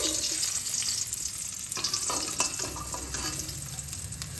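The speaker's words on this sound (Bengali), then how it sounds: "ডিমগুলোকে লাল লাল করে ভেজে নিলাম" Eggs browning in hot oil in a pan for egg ghugni make a loud, continuous sizzle, with stirring clatter in the middle.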